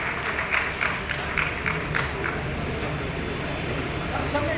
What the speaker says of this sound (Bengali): আমরা একটু হাততালি দেই